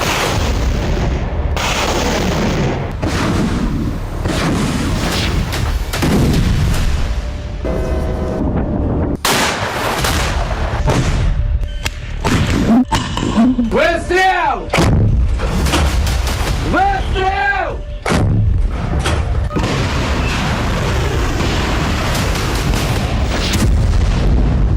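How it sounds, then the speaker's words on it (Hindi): Russian bombardment and artillery fire over Kharkiv, Ukraine: repeated heavy booms and blasts, some close and loud, others distant, with crackling bursts and whistling tones over constant background din. "48 घंटे में रूसी सेना ने इतना बम बरसाया कि खार्किव वो शहर बन गया जहां 2 दिन में सबसे ज्यादा बमबारी हुई।"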